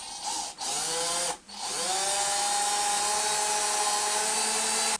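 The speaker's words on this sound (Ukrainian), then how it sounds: "зараз просверлю отвори." Power drill boring holes in parts for an adjustable bar stool, a close whining motor that starts, stops twice briefly, then runs steadily at high speed to the end, no talk.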